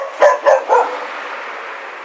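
A dog barks three quick, sharp times close by, then falls quiet over faint background hiss.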